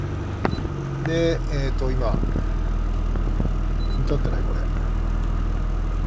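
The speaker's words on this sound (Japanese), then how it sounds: "この状態でエンジンかけます。" Rover Mini automatic engine cranking and catching, then settling into a steady low idle that carries on to the end; someone talks over the start.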